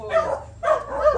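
Dogs bark and yelp in a quick series of short, loud calls close by, several barks overlapping within about a second, with a voice faintly present.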